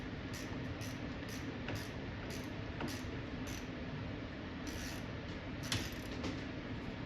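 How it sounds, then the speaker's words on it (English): A ratchet fitted with a Phillips bit turns screws out of a Pole Position arcade cabinet, ticking in short, evenly spaced bursts of clicks over a steady background hum, close and moderate in volume. "ratchet here with a Phillips bit so that we can slide out this light housing"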